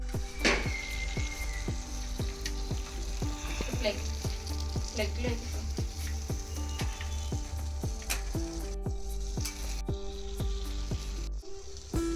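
Chicken skewers sizzling over heat at night in heavy rain as oil is dabbed on: a constant loud frying hiss under a low hum, punctuated by regular sharp ticks and pops, with a few faint squeaky scrapes in between.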